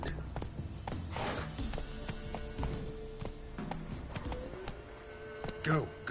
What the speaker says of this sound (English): So is my horse stuck in this area?